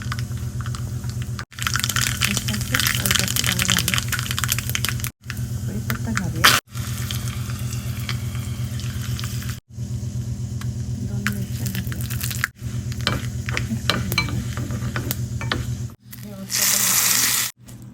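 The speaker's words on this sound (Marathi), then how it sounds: "यावर आपण आता फोडणी करून घालूया यात आपण एक चमचा तेल घालूया" Mustard seeds and spices tempering in a spoonful of hot oil for idli chutney, a continuous broadband sizzle and crackle with brief pauses, close and fairly loud, a voice speaking faintly underneath.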